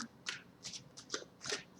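Tarot cards shuffled by hand in short bursts of papery riffling and soft slaps, four or five quick clusters spaced about a third of a second apart, close and fairly quiet with no talking.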